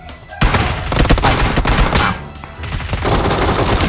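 A new gun in PUBG Mobile, on the Rondo map, fires loud, sustained rapid bursts of automatic gunfire with a brief lull before the shooting resumes.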